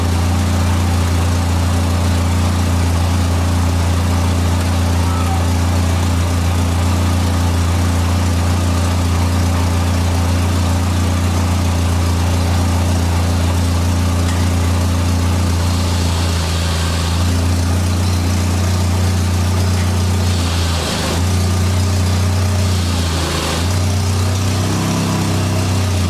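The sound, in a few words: 1989 Dodge Daytona engine running as it is put in gear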